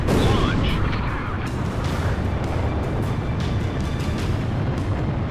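Missile launch in the air-combat game Ace Combat 0, a loud sustained rocket roar and rushing thrust filling the whole span, with a faint voice briefly audible.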